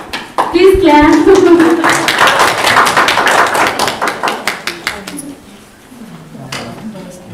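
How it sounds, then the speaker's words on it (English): An audience at a library association event in Nepal claps after a spoken request, with a voice at the start, then a burst of clapping that thins into scattered individual claps. "please clap."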